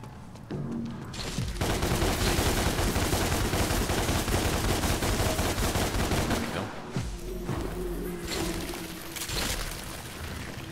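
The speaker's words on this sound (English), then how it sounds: "Let's try the pistol instead." Pistol gunfire in the action video game DmC, rapid shots layered over dense combat effects and music, loud and continuous with a short lull near the seven-second mark.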